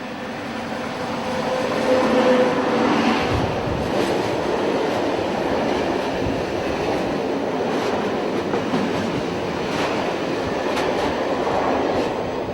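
Electric locomotive train running at a good pace along a main line in Luxembourg, a steady loud rumble and rail roar sustained throughout without a distinct approach or fade.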